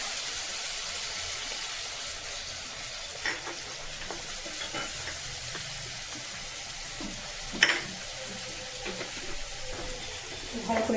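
Mustard seeds, chili and ground spices such as coriander and cumin sizzle steadily in a pan for a hot, light curry, with occasional scrapes and a sharper clatter of stirring partway through, close and continuous.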